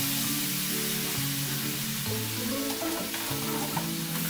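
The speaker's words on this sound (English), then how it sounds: "Just stir it up" Chocolate cookie mixture with melting chocolate and milk stirred in a hot pan, giving a steady close sizzle with soft scraping strokes throughout and no talking.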